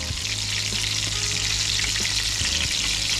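Crappie fillets frying in really hot oil until crispy, a dense continuous sizzle and crackle holding steady and close for the whole stretch, with no talking.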